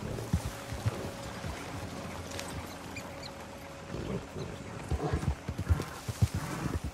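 A horse gallops along in Red Dead Redemption 2, its hooves striking in a brisk, uneven clip-clop rhythm that stays close and clear over a faint ambient bed. The hooves grow louder and denser toward the end.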